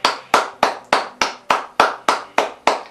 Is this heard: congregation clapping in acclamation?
yes